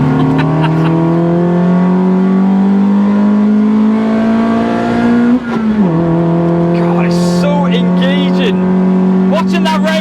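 Cammed Citroen C2 rally tribute engine holding a loud, steady high-revving drone climbing toward 7,000 RPM, with a brief throttle lift and dip near the middle before pulling again, under occasional talk.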